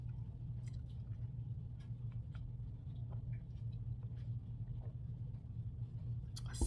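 A puppy licks close by, making faint, wet, irregular lapping and smacking sounds over a low background hum.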